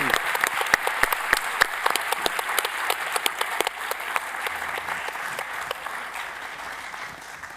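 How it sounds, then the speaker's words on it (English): Sustained applause from a conference audience at a superconducting qubits and algorithms meeting thanks the panelists, crisp individual claps standing out at first before the clapping thins and tapers, with murmured talk in the background. "So if I can give a warm round of applause"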